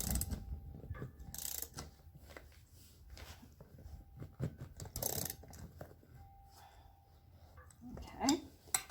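Bolts on a bicycle wheel are tightened with a tool during an inner tube replacement, giving quiet, close ratcheting clicks and metallic clinks in irregular bursts, with light handling noise between them.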